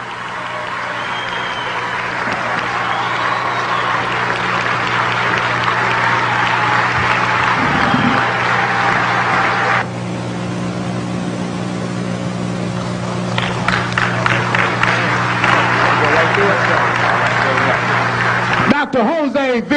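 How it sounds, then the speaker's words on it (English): Sustained audience applause for Dr. Jose V. Piemienta-Bey at a talk on the Moorish legacy, a loud, dense wash of clapping over a steady low hum that swells and then cuts off sharply near the end. "a warm round of applause for Dr. Jose V. Piemienta-Bey"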